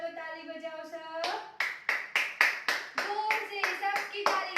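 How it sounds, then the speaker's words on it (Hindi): A group of young children clap their hands in a steady rhythm, about a dozen sharp claps in quick succession, preceded by a woman's sustained singing-like voice. "चलो ताली बजाओ सब"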